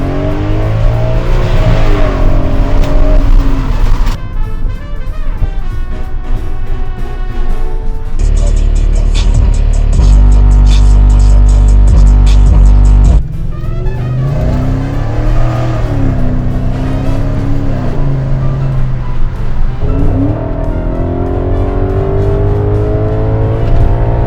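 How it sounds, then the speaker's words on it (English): V8 engine of an Audi S6 wagon with a belt whine fault, revving hard while driving on back roads, rising and falling up through the gears, loud and close throughout. "A wider track width, a rev-happy V8"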